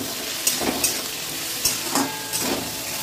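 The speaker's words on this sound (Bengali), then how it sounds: "লবণ আর হলুদ দিয়ে একটু ভাজা ভাজা হোক" Food sizzles steadily in a pan with salt and turmeric in a home kitchen, broken by several short scraping bursts as it is stirred.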